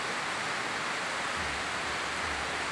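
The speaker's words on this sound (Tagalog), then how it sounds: "sana huminto yung ulan" Steady outdoor rain at night, a dense even hiss of falling water with faint low rumbles underneath, continuous and moderately loud throughout.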